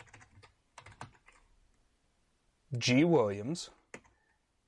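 Brief bursts of clicking on a computer keyboard as a Linux command is typed, faint and close, with a voice speaking in between.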